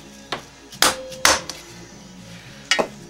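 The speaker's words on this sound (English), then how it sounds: "We're going to give one a tap here." A hammer taps a stubborn bolt during a KDX motorcycle engine teardown, giving a few sharp, separate metallic knocks spaced irregularly, up close in a quiet workshop.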